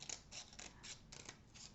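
Scissors snip through a paper template for a poinsettia craft, a quick run of about six crisp, close cuts in an even rhythm, quiet and alone.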